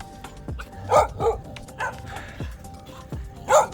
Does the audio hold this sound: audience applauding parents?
no